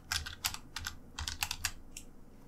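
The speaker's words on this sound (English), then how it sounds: "I'll just type in grade overview." Close, crisp typing on a computer keyboard as a block name is entered in Moodle, several quick keystroke clusters in an uneven rhythm with short pauses, heard alone.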